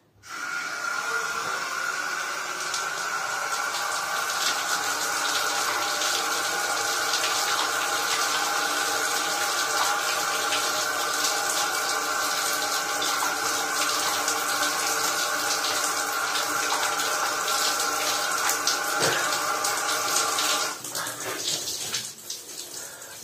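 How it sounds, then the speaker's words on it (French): Water running steadily from a tap or shower while shampoo is rinsed out of hair, a loud continuous hiss and splash for about twenty seconds before stopping abruptly. "maintenant je vais rincer"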